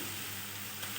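Chopped onion dropped into hot oil already tempered with cumin seeds: a faint, steady sizzle with a low background hum and no talking.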